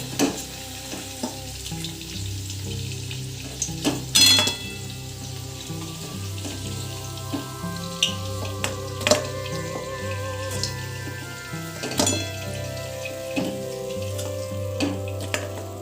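Gokul pitha frying lightly in a pan, a steady soft sizzle with occasional stirring clinks and scrapes, moderately close and continuous with no voices.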